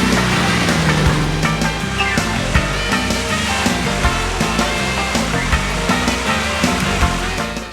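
A Toyota 4WD ploughs through a water crossing at a Cruiserkhana event, a dense continuous roar of rushing, splashing water over engine noise, loud and close throughout.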